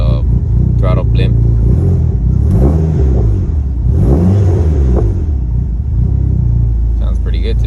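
Dodge Neon SRT-4 engine idling loud and close, rising in a few throttle blips that swell and fall back to a steady rumble, with someone talking over it.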